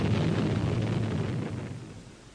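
A British nuclear bomb explosion recorded in archive film produces a broad, deep rumbling roar that is loud at first and then gradually fades, with no voices.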